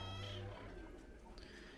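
A cat gives a brief, soft meow, faint and close, in an otherwise quiet space, outdoors on a cold day during natural molasses making.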